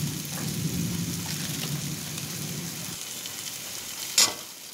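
Pav bhaji masala frying in oil in a pan, a soft continuous sizzle with a low bubbling undertone that fades partway, then a brief sharp clink near the end.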